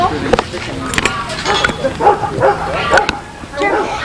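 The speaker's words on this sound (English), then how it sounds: "Who's that dog back there?" A dog barks and yips repeatedly at a lab party, its sharp barks and whimpers coming in irregular bursts in the background while people talk nearby.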